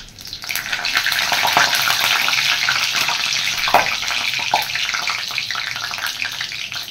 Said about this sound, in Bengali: খুন্তিটার মধ্যে জল ছিল, আর একদম জলটা ফেটে উঠলো তেলের মধ্যে পড়ে